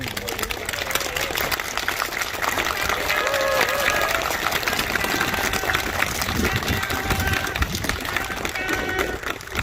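Sustained applause from a large audience at an all-star gala, a steady dense wash of clapping that holds for the whole stretch with a faint murmur underneath.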